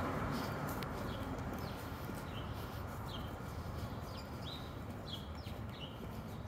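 Birds chirp in short repeated calls over steady background noise in a central residential neighbourhood of Quebec City, lined with small apartments and trees; the calls are faint to moderate and spread throughout.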